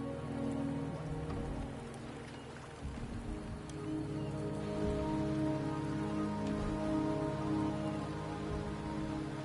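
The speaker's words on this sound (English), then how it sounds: "The rain is subsiding, and the sky will soon clear." Steady rain patters on surfaces in the video game Wuthering Waves, a soft, continuous hiss of drops at moderate level over a low ambient drone, with no speech.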